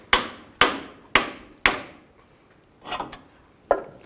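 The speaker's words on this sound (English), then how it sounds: "I have to tap this in place." A hammer taps an idler arm into place under a 2000-06 GMC Yukon: four sharp, evenly spaced metallic blows, then a softer knock and one more strike, close and distinct with no talk.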